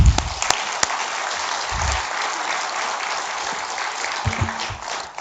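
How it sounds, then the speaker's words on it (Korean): Steady applause from a church congregation during an afternoon worship service, a broad sustained wash of clapping filling the room for several seconds, with a few low voice murmurs near the start and end. "하나님께 영광의 박수 한번 드리겠습니다."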